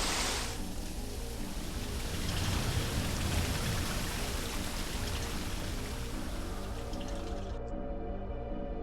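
A water fountain in Parasite Eve 2 runs steadily, a dense, even rush of splashing water that holds constant before cutting off abruptly near the end.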